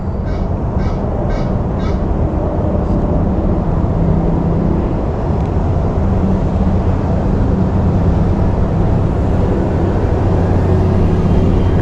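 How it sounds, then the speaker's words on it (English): Motorboat passing on Lake Ida in Florida, a loud steady engine drone with tonal hum holding throughout, plus a few brief bird calls early on. "There's another boat by. Thankfully that ain't a wake boat."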